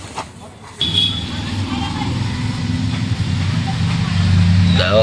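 A car's engine idles steadily as a low hum, starting abruptly after a short quiet moment and growing slightly louder toward the end, with a voice speaking over it.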